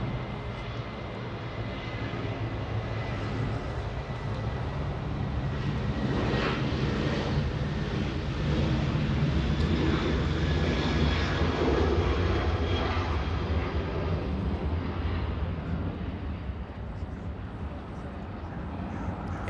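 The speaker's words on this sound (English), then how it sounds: "Asiana Airlines flying to Seoul in South Korea. That A350, only 3 years of age." An Asiana Airlines Airbus A350 on runway 24 left at Los Angeles International Airport spools up with a steady, broad jet roar that builds gradually and peaks midway, heard somewhat distant and continuous, with no voices.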